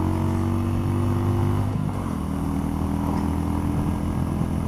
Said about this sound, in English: So, to the engine, it's a 250cc, 22 horsepower I think it is